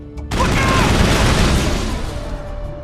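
Gunfire in Mass Effect: a loud burst of rapid shots kicks in after a short quiet lead-in and rattles on as a dense fusillade, fading slightly toward the end, with a voice talking faintly underneath.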